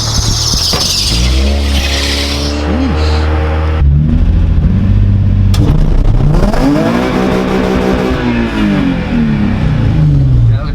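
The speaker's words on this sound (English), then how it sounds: "that was a cool ass burnout" A car on slick tyres does a burnout, its engine revving hard while the tyres squeal and scrub. The sound is loud and close, and the revs rise and fall in surges. The engine is briefly cut midway before it roars again.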